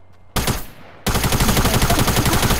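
Gunfire in Fortnite: a single loud shot, then a sustained rapid burst of automatic fire that continues to the end, close and loud with no talk.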